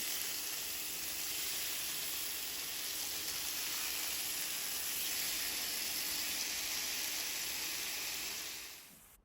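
Katla and Rui fish pieces frying in oil give a steady, even sizzling hiss that runs unbroken close by and fades out at the very end, with no voices.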